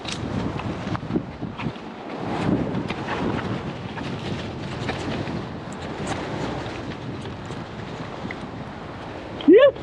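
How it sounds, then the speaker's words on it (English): Strong gusts roar into the microphone on a mountain bike trail ride, a continuous loud buffeting rumble that swells and dips throughout, with a brief sharp sound right at the end. "Damn, that was windy."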